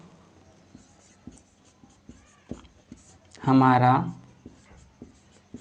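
A maths solution written out by hand for a class 10 NCERT exercise, with soft, regular scratchy strokes and taps at a steady pace, broken by a brief spoken phrase midway.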